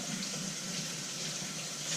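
Tap water runs steadily into a sink as hands are rinsed in a home kitchen while cooking spicy shrimp noodle soup, a continuous close hiss with no speech.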